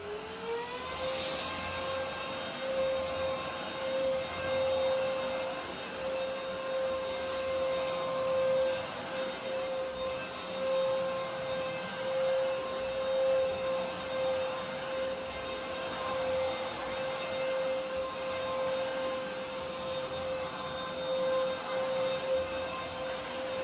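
A Hoover H-Free HF18CPT cordless stick vacuum running with its motorised brush on carpet, a steady loud motor whine with a constant high tone and brush rumble throughout, no talking.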